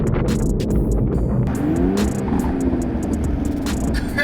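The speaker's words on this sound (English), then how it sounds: "Driving in the Aston Martin." A rebuilt 2017 Aston Martin DB11 revs on a street drive, a loud steady engine roar from inside the car with some rattling and road noise, no talk.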